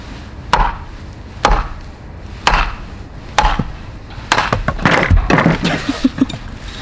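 Axe blade striking wood while carving a spoon, delivering a series of sharp, close chops, first spaced out and then faster and denser toward the end.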